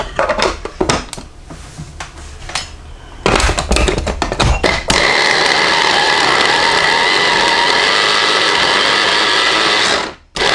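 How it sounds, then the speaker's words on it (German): A few clattering taps and knocks, then a large kitchen blender making green olive paste roars loudly and steadily for several seconds before cutting off abruptly. "Den Mixer habe ich neu und er hat einen Nachteil, er ist zu groß."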